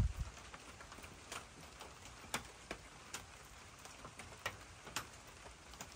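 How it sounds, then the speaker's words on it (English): Rain falls steadily outdoors at an animal sanctuary, a soft continuous patter with scattered sharper drips and taps standing out now and then, fairly quiet and unbroken by talk. "It's raining, Olaf."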